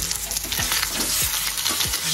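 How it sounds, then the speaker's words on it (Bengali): Chicken pieces fry in a pan, with a loud continuous sizzle and a few scraping stirs of a utensil across the pan, close and alone. "আবার এসে চিকেন ভাজছি এখন"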